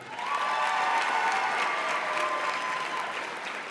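Steady applause from an awards-ceremony audience honoring teachers of the year, a dense, sustained clapping that swells early and eases slightly toward the end.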